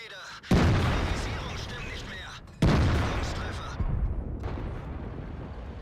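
World of Tanks tank gun fire: three loud booming shots, the first two each followed by a long rumbling decay and the third arriving shortly after the second.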